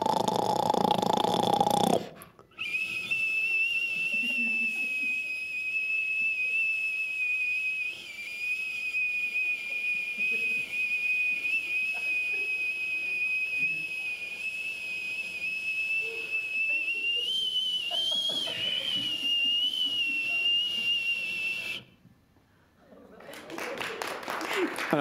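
A comedian's snore imitates a whistling teapot or kettle: a sustained high, thin whistle holds steady for about twenty seconds with faint breathy noise beneath, framed by brief talk at either end.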